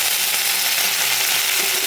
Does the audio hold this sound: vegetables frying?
yes